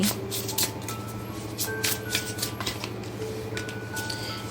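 Tarot cards are shuffled quietly up close in quick, soft riffling bursts and light slaps, with faint background hum and no talking.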